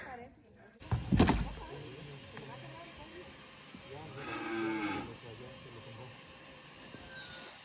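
Cattle lowing on a ranch in San Juan Peyotán, a loud bellow early on and another moo midway, with people talking nearby over farmyard background noise.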